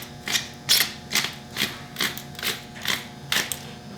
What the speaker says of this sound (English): I think I broke that grinder with this big rock salt.